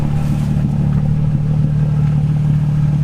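A Nissan 350Z engine with a 370Z Y-pipe exhaust idles steadily when warm, a low, smooth, fairly quiet exhaust rumble with faint clattering, continuous and close with no talking.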